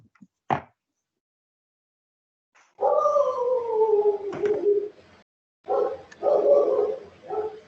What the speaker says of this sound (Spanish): Maten al perro, por favor.